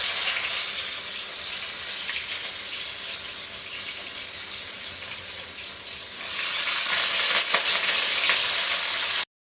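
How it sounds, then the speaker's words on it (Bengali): Long strips of paneer fry in a hot pan with a steady, close hiss that swells into a louder, brighter sizzle partway through, with no voices. "এখন বন্ধুরা পনিরগুলিকে লম্বা লম্বা করে কেটে এখন ভালো করে ভেজে নিলাম।"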